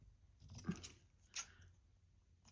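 Scissors trimming a paper time-card tag, a couple of faint close snips with soft rustle between them, no voices.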